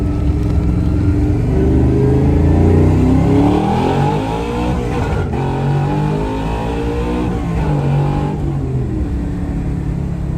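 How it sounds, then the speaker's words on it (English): Tri-5 car engine revving hard, climbing in pitch and then bouncing off the rev limiter around the 1-2 shift before pulling again, loud and close with a steady roar throughout. "I don't know if I'm catching limiter on the 1-2 shift or what's going on"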